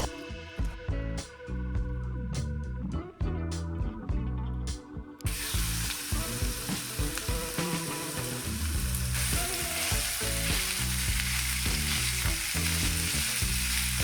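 Minced veal browning in a frying pan, loud steady sizzling throughout after an opening stretch of clinking and stirring, with no talking.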